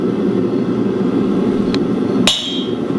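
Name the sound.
hammer lightly striking a punch on a steel billet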